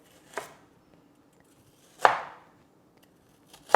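A knife cutting through food for tofu kabobs on a cutting board, three separate crisp chops spaced apart, close and fairly quiet with silence between.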